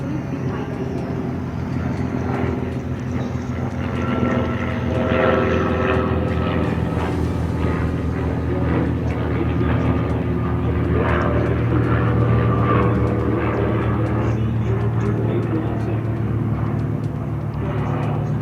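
A MiG-21 fighter jet flies in before landing, its engine a loud, continuous roar that holds steady throughout with a slight swell partway through, and no voices rise above it.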